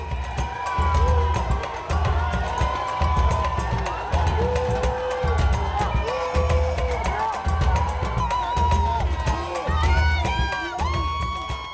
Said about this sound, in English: about 500 fans gathered outside as the bus made its way along the street. Some had come to jeer, but most were still cheering their beloved team.